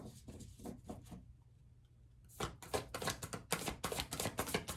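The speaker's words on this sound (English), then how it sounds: "I never shuffle this deck like this, but I was guided to shuffle this deck like this" Tarot cards riffle and snap in quick bursts, a short flurry, a brief pause, then a longer run of crisp, close shuffling.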